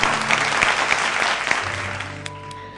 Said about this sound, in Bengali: জোরে হাততালি তাপসীদির জন্য